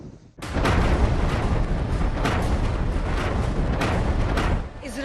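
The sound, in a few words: Israeli artillery cannons firing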